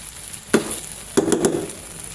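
A few scraping stirs of cooked chickpea pulao in a pot, two or three short strokes with quiet pauses between, close and moderately loud.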